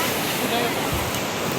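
Surf washes onto a beach in a steady, loud, close rush of breaking water, mixed with wind buffeting the microphone, with no pause across the short stretch.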